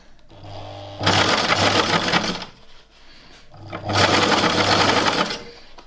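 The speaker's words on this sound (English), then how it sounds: "Just trying to keep this stitch in the middle of that side of the foot." Sewing machine stitching a custom gear stick cover (shift boot), running in two loud sustained bursts of about a second and a half each with a quiet pause between, close up.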